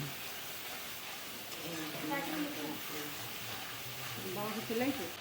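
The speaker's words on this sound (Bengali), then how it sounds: "সমস্ত কিছু মশলা সুন্দরভাবে কষিয়ে নিয়েছি" Ginger and cumin paste with tomato sizzles and fries steadily in a pan, a soft continuous hiss with brief stirring bursts near the end, while someone speaks over it.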